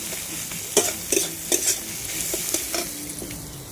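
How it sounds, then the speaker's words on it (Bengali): Onion and fish sizzle in a frying pan, broken by several sharp scraping stirs of a utensil against the pan, close and fairly loud. "এই হচ্ছে পেঁয়াজ ভাজি করছি, মাছ ভাজি করছি।"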